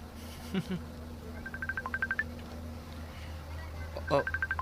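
A telephone rings with repeated short trilling bursts, starting softly and growing more distinct, then sounding again near the end, with a brief voice and a low steady hum behind it.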